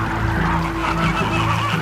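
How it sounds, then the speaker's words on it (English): A flock of flamingos gives a dense, continuous chorus of loud honking, goose-like calls that overlap with no pauses and fill the whole stretch. "Time to infiltrate a fleet of flamingos."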